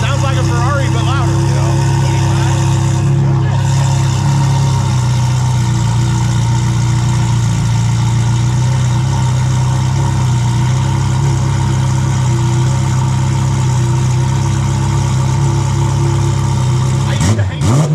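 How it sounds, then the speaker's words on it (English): A loud car engine idles steadily close by, a deep continuous rumble with a Ferrari-like tone, while voices talk over it throughout. "this thing it sounds like a Ferrari too"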